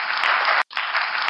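Applause from an audience, a loud, even hiss of clapping that cuts out abruptly for a split second before resuming at the same level.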